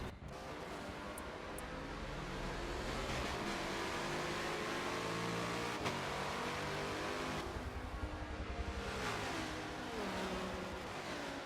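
A Chevrolet and a Lamborghini GT race car duel at a Long Beach street race, their engines a steady, loud roar of revving and accelerating that holds throughout, with faint tire skid noise and no voices.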